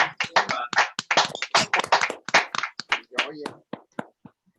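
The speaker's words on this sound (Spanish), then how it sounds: "les pido a todos que abran su micrófono para darle un aplauso muy grande" Online meeting participants clapping over open microphones, a choppy mix of claps and overlapping voices that fades out gradually.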